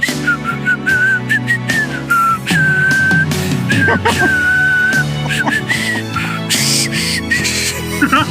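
Someone whistles a wavering tune up close, the notes sliding and breaking, over background music and bursts of laughter.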